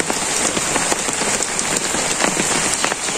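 Steady rain falls on a village on a rainy day, a dense, even patter of drops hitting surfaces nearby, with no voices heard.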